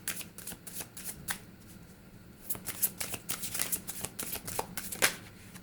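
Chakra Intuition Oracle cards being shuffled by hand, a steady run of crisp riffling flutters and soft slaps, close and fairly loud, with no talking.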